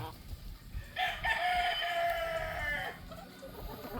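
Boston Black chicken on a backyard poultry farm crowing in one long drawn-out call near the microphone, with a few clucks around it and faint talk in the background.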